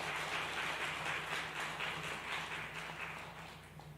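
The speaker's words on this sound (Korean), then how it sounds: "우리 다음 세대 아이들한테 우리 격려의 박수 한번 하겠습니다" A church congregation applauds the children of the next generation. The clapping is a soft, even, distant patter that slowly fades toward the end, with a low hum underneath.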